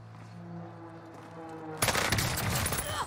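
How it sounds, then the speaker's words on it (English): Cooper Carbine SMG firing in Warzone, a sudden dense stream of rapid gunshots that cuts in after a quiet stretch with a steady low hum and keeps going loud and close to the end. "I'm really enjoying this SMG, Cooper Carbine."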